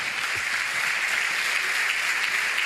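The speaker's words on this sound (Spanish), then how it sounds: "pido un aplauso para él" Steady, dense applause from an audience at a gathering with architects, an even wash of many hands clapping that holds at constant strength throughout with no voices standing out.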